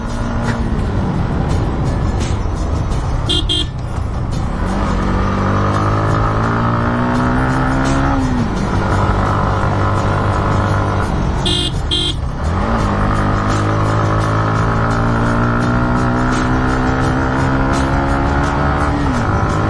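Motorcycle labouring in low gear up the steep mountain road to Dim Pahar in Bandarban, its engine a loud, continuous close-up drone that rises and dips in pitch as the throttle is worked, with no talking.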